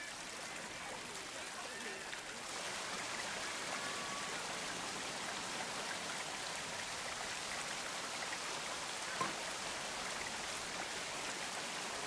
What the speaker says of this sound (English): Do a small waterfall top.